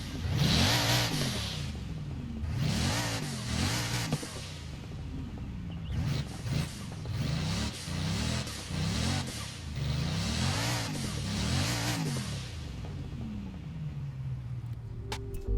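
A Bugatti Divo's engine revs repeatedly in the racing game Forza Horizon 4, rising and falling in a string of roughly six throttle blips from a stationary car, with a smooth roar and a short settling tail at the end.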